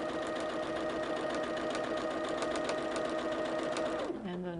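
A sewing machine runs a quick second line of stitching down a seam on a plain quilt block, a fast, even mechanical whirr close by that holds steady and then slows and winds down at the end.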